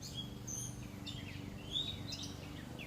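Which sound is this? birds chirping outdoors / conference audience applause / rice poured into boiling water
birds chirping outdoors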